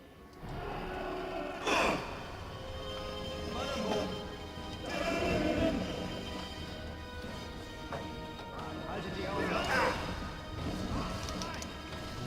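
A car blows up after its fuel tank is shot in the Sniper Elite V2 video game, a loud crash followed by rumbling debris and game sounds, with someone talking over it.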